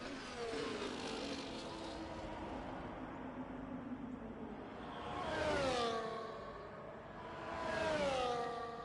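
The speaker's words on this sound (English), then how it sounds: "At the moment, David Clark is currently on his flying lap on a set of soft tires in the Williams." Racing car engine on a flying lap around Spa in a racing video game, steady high revving with two loud passes rising and falling as the car sweeps by, no talk over it.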